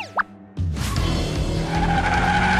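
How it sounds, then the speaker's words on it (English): A cartoon car revs up with a sudden roar after a short pop and squeal, then holds a loud, steady engine drone with tire skid noise. "Listen to the echoes and the sound of the engine."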